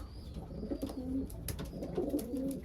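Young pigeons in a loft coo in low, rolling phrases, two or three clear calls repeating close by over a soft background of flock noise.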